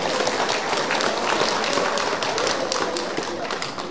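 Dense audience applause rolls through the opening ceremony of the 2022 Yeongdong grape festival, loud and sustained, tapering slightly near the end with some voices faintly underneath.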